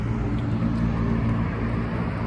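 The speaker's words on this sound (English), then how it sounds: "Not used to the traffic noise either." Steady downtown city traffic noise beside a river, a continuous loud low rumble of cars and other road vehicles with no breaks and no talking.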